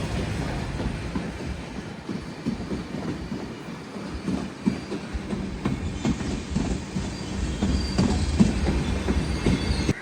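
A goods freight train hauled by twin WG9 locomotives rolls past at a station, heading toward Shoranur, with steady wheel rumble, rhythmic clickety-clack over rail joints and occasional squeals, loudness building slightly as the wagons pass close by.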